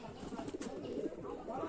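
Domestic pigeons, including Fulshira and Chini Kaldom breeds, coo softly in low, rolling calls at a home loft while people talk nearby.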